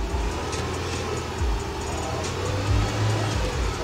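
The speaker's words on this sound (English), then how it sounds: "let's step on the gas a little bit, give it a little gas, get that pump really circulating" The 4.6-litre engine of a 2008 Mercedes-Benz GL450 with a hard-to-turn steering wheel is revved lightly, a steady close low rumble that swells briefly a couple of times.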